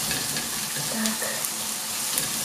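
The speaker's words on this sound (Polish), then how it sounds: "Na masło klarowane wrzucę naszą cebulkę i podsmażę ją" Onions fry in clarified butter with a steady, close sizzle and soft crackling that runs through without a break, with no voices over it.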